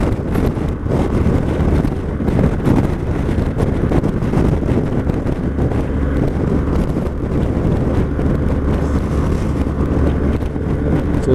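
Steady, loud wind buffets the microphone throughout, roaring and rumbling continuously with small gusty swells and no speech, as when moving alongside wagons in exposed conditions.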